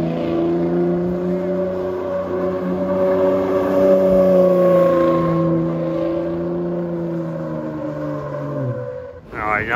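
A four-wheel-drive dually pickup truck does donuts, its engine roaring loud and close in one long sustained rev with a steady droning pitch, then dropping off sharply before a quick burst at the end.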